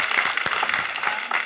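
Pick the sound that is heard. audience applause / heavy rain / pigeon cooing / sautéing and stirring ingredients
audience applause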